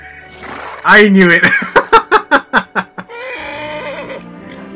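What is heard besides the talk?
horse Max neighing in video game Kingdom Hearts 3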